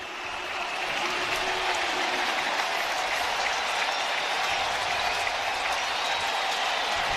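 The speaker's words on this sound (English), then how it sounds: "This crowd fired up." A packed baseball stadium crowd at the Red Sox versus Yankees AL Wild Card Game 3 cheers and applauds in a loud, sustained, dense roar that holds steady throughout.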